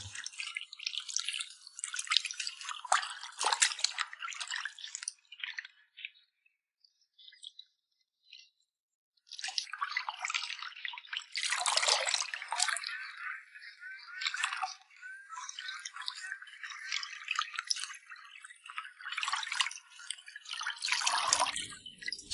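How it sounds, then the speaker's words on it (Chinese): Chopped carp pieces rinsed by hand in a basin of water, giving wet splashing and sloshing in bursts with a short quiet pause, close and moderately loud, no talking. "把剁好的鱼块放入有水的盆中， 稍微多清洗2遍"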